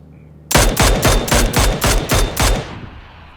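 Loud automatic gunfire from the PUBG video game: a rapid burst of about eight close shots over two seconds, each ringing out, then a brief decaying tail.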